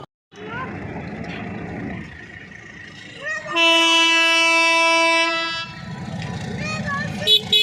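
A passing train in Dhaka rumbles and clatters nearby, then blasts a long, loud, steady horn for about two seconds before the rolling wheel noise returns and fades.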